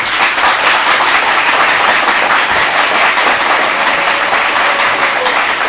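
An audience at a televised school quiz contest claps for the arriving Lycée Jean-Marie Vincent team, a dense, loud, continuous wash of applause filling the whole stretch with no voices over it.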